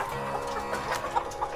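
Chickens cluck softly in a holding area before halal slaughter, close and continuous, with a few brief louder clucks near the end and no talking.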